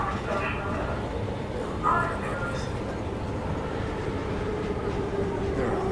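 Subway train ride in the video game Soma, a continuous low rumble and rattle of the carriage with faint squeals, steady throughout, while a voice talks over it.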